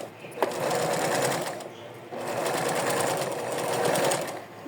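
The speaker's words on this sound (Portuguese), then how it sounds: "posso passar uma costurinha" A sewing machine stitches the ruffle of a doll's dress in two close, steady runs of rapid needle clatter, separated by a short pause.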